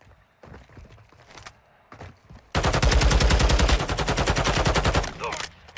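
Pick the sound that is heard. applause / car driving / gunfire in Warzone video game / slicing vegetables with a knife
gunfire in Warzone video game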